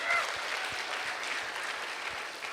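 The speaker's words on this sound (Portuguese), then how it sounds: "Salva de palmas" Audience applause for guest Rafael Carrilho at a church mission event, a steady dense wash of clapping sustained for a couple of seconds before tapering slightly, fairly quiet and with no voices over it.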